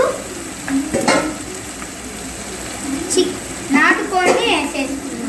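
Country chicken hitting a hot pan, giving a steady soft sizzle with a few stirring clatters, while someone talks over the cooking.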